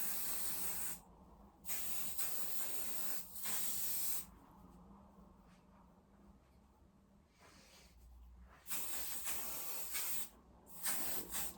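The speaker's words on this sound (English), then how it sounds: "a bit of hairspray" Several short bursts of hairspray hiss close by, separated by brief pauses, each a sharp airy spritz.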